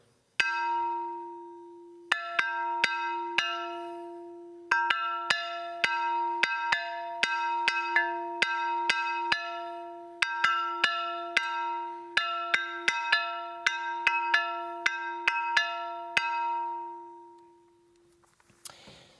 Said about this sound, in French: toutes ces pierres sonnaient